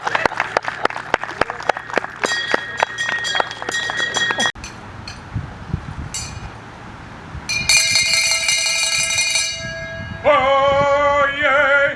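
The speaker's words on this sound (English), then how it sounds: "Here comes the part where I say, God save the king, and walk away and give my bell a ring." A town crier's hand bell rings in a rapid run of loud, evenly repeated strokes for about four seconds at a crier competition, followed by crowd noise and cheering.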